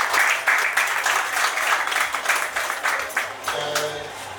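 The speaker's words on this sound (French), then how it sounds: "Applaudissez pour du trône, s'il vous plaît." Audience applause at a live comedy and laughter-therapy show in 2021: a dense, steady wash of many hands clapping close and loud for several seconds, with a voice briefly surfacing near the end.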